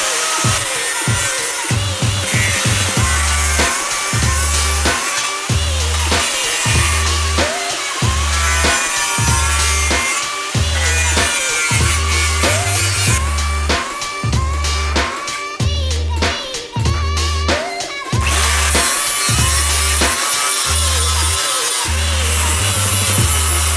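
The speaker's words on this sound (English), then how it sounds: "now we'll just grind it off a little bit, make sure it looks a little nicer" Power tool grinding a welded metal battery box smooth in a shop, loud and close, with a rhythmic pulsing whine that cuts in and out in repeated passes.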